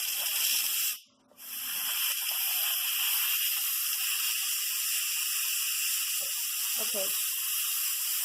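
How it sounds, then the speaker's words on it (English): An Instant Pot vents pressure through its manual release as a loud, steady steam hiss that runs almost the whole time, broken by a short pause near the start, with a brief spoken word underneath. "I'll just kind of gradually start releasing the pressure manually"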